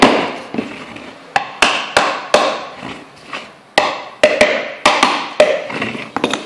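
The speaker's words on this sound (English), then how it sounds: "I use this hammer, actually it's a camping hammer" Sharp wooden knocks from a camping hammer striking a picture frame joint, about a dozen irregular taps, close and loud, each ringing briefly before the next.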